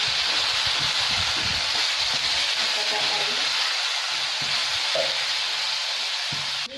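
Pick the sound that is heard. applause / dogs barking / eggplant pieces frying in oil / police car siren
eggplant pieces frying in oil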